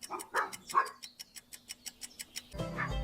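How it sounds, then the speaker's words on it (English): A dog barks in a quick series of about ten sharp, evenly spaced woofs, near and clear, each bark short and bright, with a brief unrelated sound at the end. "Yeah, a dog."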